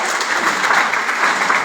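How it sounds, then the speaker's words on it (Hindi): An audience at an IMC seminar hall in India claps loudly, a dense steady burst of applause from many hands. "पर जोरदार तालियां उनके लिए।"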